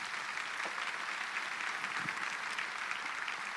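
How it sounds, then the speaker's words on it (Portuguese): A church congregation at a Baptist service breaks into sustained applause, a dense even wash of many hands clapping throughout, with no talk over it. "Você pode aplaudir a Jesus."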